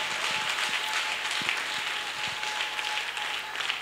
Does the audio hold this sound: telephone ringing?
no